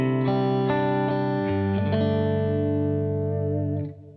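A stereo electric guitar through an amp simulator rings out a chord with rich, processed, chorus-like shimmer, sustaining with a few changing notes before fading out.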